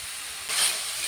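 Mango pieces seasoned with salt and turmeric steam in a pan without added water, giving a soft, steady hiss that swells briefly partway through.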